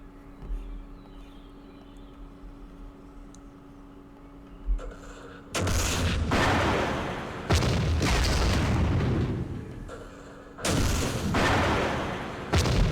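Artillery fire in the Vietnam war game Campaign Series Vietnam, Dien Bien Phu scenario: after a quiet stretch with a faint thump, three loud, sustained blasts of barrage rumble and crackle, each several seconds long.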